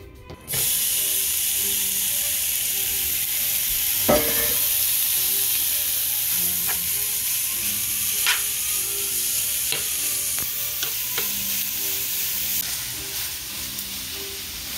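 Bacon and Italian sausage fry in a pan for a homemade pizza, giving a loud, steady sizzle with scattered crackles and pops throughout and no talking.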